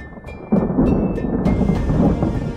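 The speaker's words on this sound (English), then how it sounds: "An evening downpour of sulfuric acid rain." A thunderstorm rumbles with deep, heavy thunder over steady, dense rainfall. Loud and continuous, with a sharp swell of thunder partway through.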